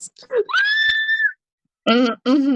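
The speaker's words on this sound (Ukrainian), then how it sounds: "Я поняла вже по крику, хто упав опять." A video-game character screams while falling off a mountain, a single shrill, sustained cry near and loud, followed after a brief pause by two bursts of a voice.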